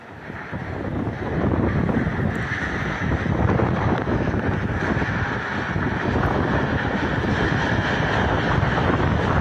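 Strong tornado winds sweeping through Kalideres, West Jakarta, during heavy rain, a loud continuous roaring rush buffeting the microphone with no pause.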